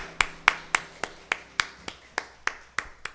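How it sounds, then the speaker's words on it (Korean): A small church gathering clapping for God, heard as about a dozen distinct, evenly spaced sharp claps, close and clear, with no talking over them. "하나님께 영광의 박수 올립시다"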